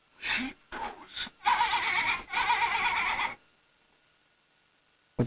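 A young girl imitates a sheep bleating with her voice, giving a few short bursts and then a longer, shaky, quavering bleat, followed by silence.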